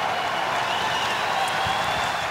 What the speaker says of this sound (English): Now the Ducks fans on their feet applauding this victory by Anaheim